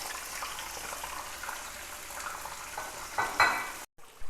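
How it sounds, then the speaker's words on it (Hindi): Marinated chicken pasanda pieces fry over high heat in a pan, a steady close sizzle and crackle with occasional stirring that swells briefly near the end. "इन्हें तेज़ आंच पे थोड़ा सा 5 मिनट भूनेंगे"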